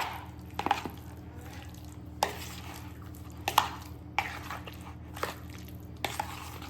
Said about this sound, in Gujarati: હવે આપણે એને આ રીતે મિક્સ કરી લેવાનું.